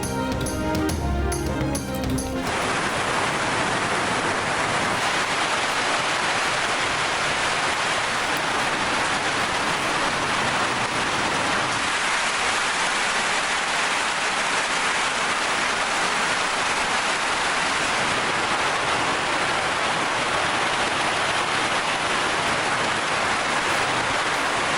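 Heavy stormy rain pours without a break during monsoon downpours in Kohat's Dara Adam Khel area, a dense, even hiss close by that fills the whole stretch with no voices.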